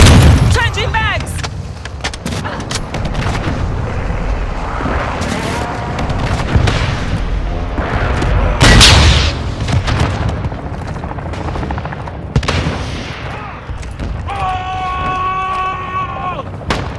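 Airstrike explosions in Call of Duty Modern Warfare 2 Invasion on PS5, heavy booms and rumbling blasts mixed with gunfire and aircraft noise, loud and continuous, with voice callouts and electronic beeps near the end.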